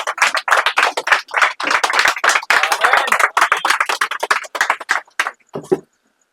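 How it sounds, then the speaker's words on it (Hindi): A church congregation clapping in praise during a Hindi-language service, loud rhythmic bursts of many hands in quick pulses that break up, trail off into a few scattered claps and then stop. "जब बैठते हैं महिमा की तालियां देंगे प्रभु यीशु मसीह को।"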